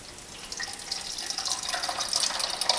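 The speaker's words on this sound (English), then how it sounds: "What I want to do is just add some water, and we'll just see what happens." Water being poured or filled into a Moke wiper motor assembly to check for leaks, a steady soft trickling and splashing that builds slightly louder toward the end, heard alone without talk.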